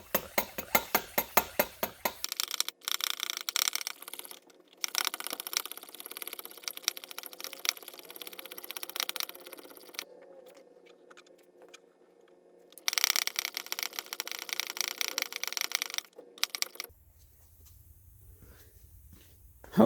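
A hand pump on a power bleeder is pumped up to 15 psi for brake fluid work on a 2016 Camaro SS. A quick run of rhythmic, close pump strokes comes first, followed by irregular clicks and handling noises with quiet gaps.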